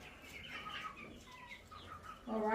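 Backyard chickens and roosters cluck and chirp softly at close range in a quiet pen, with short scattered calls and a louder squawk at the end.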